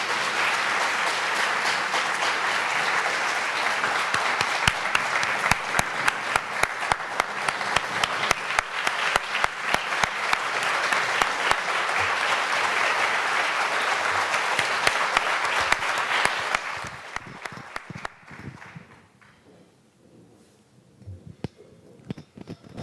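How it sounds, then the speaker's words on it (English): An audience at a national security speaker series event applauds a former Iraq war veteran. The dense, sustained clapping holds steady for about seventeen seconds, then thins out and fades to a few scattered claps. "give them another round of applause"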